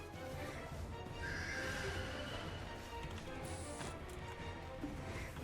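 A horse neighs loudly over a busy background of Black Desert Online game sounds, the whinny rising and trailing off, with scattered clatter around it.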